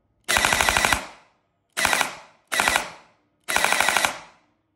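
Kestrel Basic V3 programmed airsoft trigger firing full auto in four rapid bursts of closely spaced shots, loud and near, each burst ringing out briefly with no talk.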